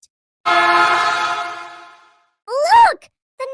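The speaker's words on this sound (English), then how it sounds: "Look! The number train is back." A cartoon number train sounds a sustained, harmonic horn blast, followed by a short rising-and-falling whistle or voice-like call and a brief final toot, all loud and close.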